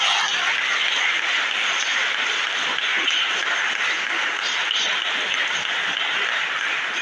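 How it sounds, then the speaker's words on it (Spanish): A church congregation gives sustained, dense applause throughout, a continuous wash of many hands clapping at even loudness with no voices on top. "yo quiero que los demás le den un aplauso bien grandotote"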